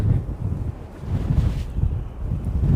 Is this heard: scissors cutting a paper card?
no